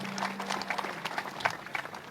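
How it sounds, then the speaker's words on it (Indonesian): A crowd applauds at a 28th anniversary of Reformasi gathering, a dense, fairly faint patter of many hands over a low hum that drops away partway through. "Tepuk tangan buat Tio."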